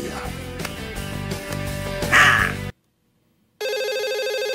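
A telephone in a Peruvian TV drama rings with a bright, steady electronic tone that starts after a brief silence. Dramatic music plays before it, with a rising swell just before the pause.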